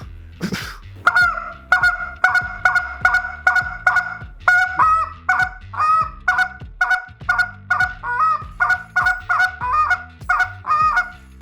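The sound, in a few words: goose call blowing a spit note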